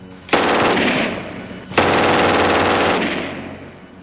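A German MG-42 machine gun fires two long bursts at a very high cyclic rate, each a loud, dense ripping roar with the individual shots blurred together, the second burst longer and fading at the end.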